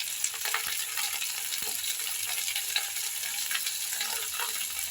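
Okra frying in a pan for bhindi, a steady close sizzle with repeated soft scrapes and clatter from stirring throughout.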